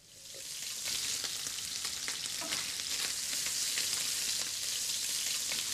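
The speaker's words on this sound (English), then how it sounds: "with a little olive oil and our lean and our fat bacon, we get the pan up to frying speed" Steady, dense sizzle of lean and fat bacon frying in olive oil, close and continuous, with faint crackles and pops scattered throughout.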